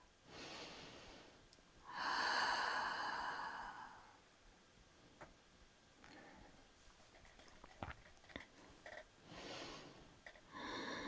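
A long, slow exhale during a beginner yoga flexibility session fills about two seconds, loud and breathy up close, then fades into softer, quieter breaths with faint rustles.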